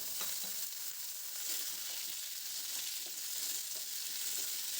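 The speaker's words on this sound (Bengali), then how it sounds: "তেলে দিয়ে এটাকে আমি 1 মিনিটের মতন ভাজবো।" Potato and pumpkin pieces fry in oil with five-spice, giving a constant close sizzling hiss with small crackles and occasional stirring scrapes, no voices.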